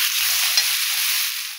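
Chicken legs and tomatoes fry in hot oil in a pan, a steady close hiss of sizzling with no voices.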